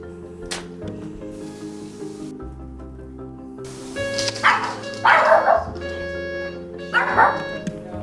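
A dog barks in short bursts, a few sharp yaps and whines spaced over several seconds, fairly close, with a low background hum and faint tones.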